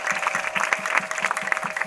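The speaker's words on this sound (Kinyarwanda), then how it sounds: "tuyikomere amashyi menshi cyane." A church congregation claps together during a prayer service, a steady rhythmic applause with even repeated beats, moderately loud and continuous, with no speech.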